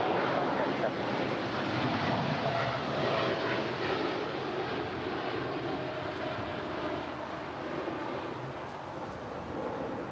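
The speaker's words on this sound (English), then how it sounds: "This is a 2-year-old Boeing 787-10 Dreamliner departing to Newark Liberty." A two-year-old United Airlines Boeing 787-10 Dreamliner departs LAX for Newark, its engines giving a steady, heavy broadband roar that eases only slightly across the stretch.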